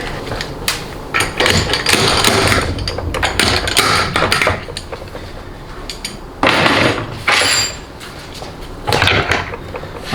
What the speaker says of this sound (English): slide hammer makes quick work of this job